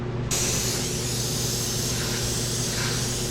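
Steady airbrush hiss spraying red and orange paint continuously, a close, even rush of air with a low mechanical hum underneath.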